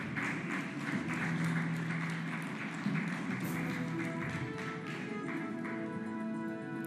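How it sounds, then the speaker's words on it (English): Sustained applause from a conference audience at an eMobility conclave in New Delhi, a dense, steady wash of clapping that continues evenly throughout. "Ladies and gentlemen, can we have a round of applause for Shri Kailash Gehlot?"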